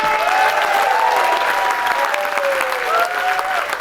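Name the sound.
applause for the cruise director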